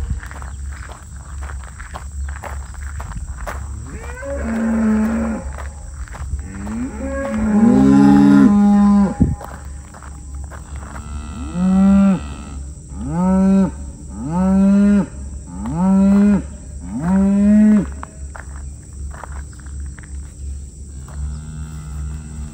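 Black Angus cattle with newly calved cows low in a pasture, a series of deep moos, one long call followed by five or six rhythmic, fairly close bellows over a steady background hum and insect buzz.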